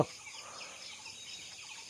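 A dense, continuous chatter of many broiler chickens peeping and murmuring together, fairly faint and steady, in a crowded poultry shed.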